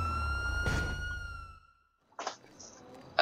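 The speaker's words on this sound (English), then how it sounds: "I just got the sirens on" A police car siren in the game GTA wails loudly for about a second and a half, then cuts off, followed by a few brief clunks and thuds.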